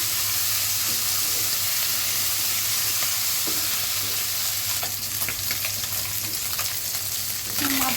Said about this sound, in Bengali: মাছগুলো হালকা করে ভেজে নেবে